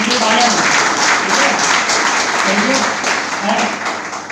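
Sustained audience applause at the closing session of a business event venue in Bhopal, a dense, steady wash of clapping that carries on at full strength and eases slightly near the end.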